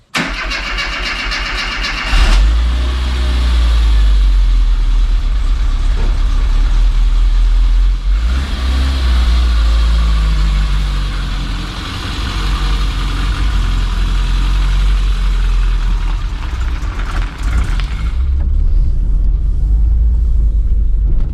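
A 1990s-era MG Metro hatchback engine starts and settles into a steady, loud idle close by, with a few small rises in revs and no voices over it.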